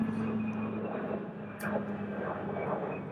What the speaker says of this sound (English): Air Force, Hercules,